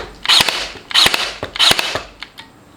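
A DeWalt DCN623 20-volt cordless pin nailer fires three times in quick, even succession, each shot a sharp, close mechanical snap followed by a short whir, ending with faint clicks.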